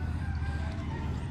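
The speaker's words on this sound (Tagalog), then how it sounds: "Tapos may mga manok dito guys oh." Chickens clucking and crowing amid steady farmyard noise, a continuous hum of birds at moderate distance with no talking.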